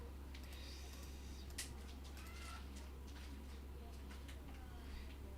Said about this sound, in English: My cat is being crazy.